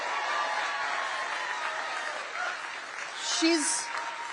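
An audience applauds at a Kamala Harris campaign event in Malvern, Pennsylvania, a steady wash of clapping held through the whole stretch and swelling slightly near the end.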